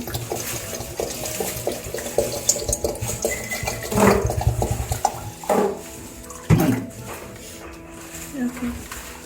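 Water is poured from glasses into the salt compartment of a Bosch dishwasher, with splashing bursts and clinks over a running background while a person talks.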